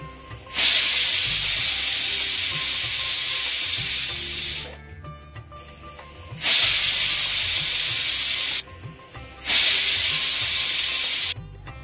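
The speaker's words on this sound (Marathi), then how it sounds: "कुकरच्या 3 शिट्ट्या झालेल्या आहेत।" A pressure cooker on a medium gas flame lets out three long, loud hissing steam whistles, each lasting a few seconds, with short quieter gaps of kitchen background between them.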